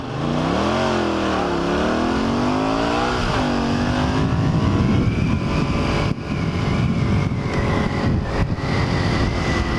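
A 1981 Honda CX500 motorcycle engine idles and revs while warming up cold, a loud close rumble with rising and falling engine pitch early on, then a rough steady running tone.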